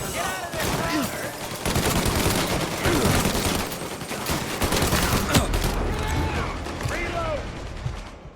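Sustained gunfire from a shootout in the video game Mafia Definitive Edition, dense bursts of shots continuing throughout with clattering impacts, mixed with shouted voices.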